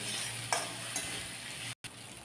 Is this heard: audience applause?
no